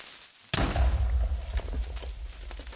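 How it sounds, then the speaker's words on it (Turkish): A sudden loud blast erupts from near silence, a booming Minecraft creeper explosion followed by a rumbling, crackling decay. "Oğlum creeper patladı ya."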